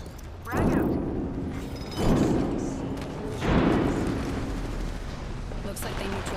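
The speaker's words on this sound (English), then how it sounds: "Casting a frag. Frag out." Three heavy, booming explosions from frag grenades in a video game land about a second and a half apart, each a deep blast that trails off into rumbling debris under continuous game noise.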